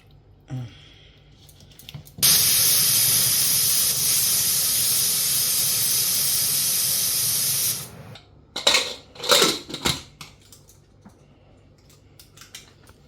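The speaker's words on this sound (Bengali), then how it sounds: "এই গরম জলটা দিয়ে দিচ্ছি।" Hot water is poured into a pot of thin mutton and potato curry, making a loud, steady rushing hiss for about five seconds that ends abruptly, followed by a few clattering knocks and scrapes.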